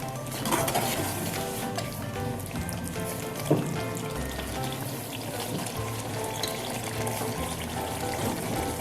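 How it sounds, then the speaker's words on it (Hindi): Chicken sautéing in a pan for chicken kachnar, a steady sizzle with repeated scraping stirs and a sharper clatter near the middle, heard close with no talking. "इसको हम इस तरह थोड़ा और इसको भूनेंगे"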